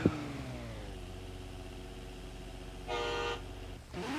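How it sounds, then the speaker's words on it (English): A drift car's horn gives one short, loud honk at the start line of a qualifying event, heard over a steady idling engine hum, followed by a brief burst of engine noise. "There's his horn."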